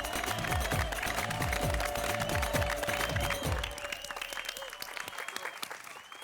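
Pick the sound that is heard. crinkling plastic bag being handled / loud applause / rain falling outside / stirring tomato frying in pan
loud applause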